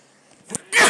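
A single short, sharp sneeze near the end after a faint breathy intake, close to the listener amid a quiet room at a tabletop game session.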